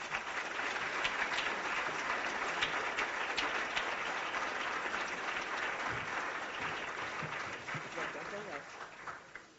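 A symposium audience at a 2008 charity event applauds in a sustained, dense rattle of many hands, steady and fairly soft, tapering off toward the end.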